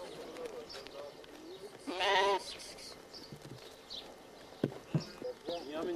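Lambs bleat in a short, wavering cry on a village farm, close and fairly loud, with people talking around them and faint outdoor noise.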